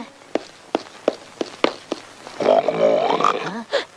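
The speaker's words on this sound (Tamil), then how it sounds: "இங்கதான் உருமல் சத்தம் கேட்குது" Heavy thudding footfalls pound at a steady pace, then a tiger lets out a long, loud, rumbling growl that swells and trails off, followed by one last short snarl.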